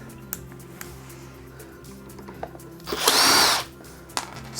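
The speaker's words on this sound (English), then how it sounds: "So just going to use this power drill for the entire build process." A power drill whirs in one short burst lasting about half a second as it backs screws out of a Coolermaster Caliber R2 gaming chair. Faint clicks and handling noises surround the burst.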